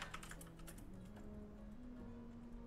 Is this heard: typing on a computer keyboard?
yes